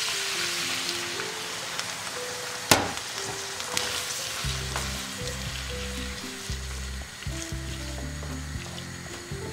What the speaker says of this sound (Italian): E vado a sfumare con il vino bianco.